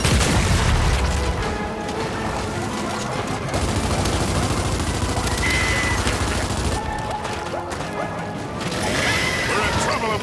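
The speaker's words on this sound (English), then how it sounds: "That's a grenade." Grenade blast and heavy gunfire in the video game Gears 5, a dense, loud barrage of booms and shots running throughout with a voice talking over the din.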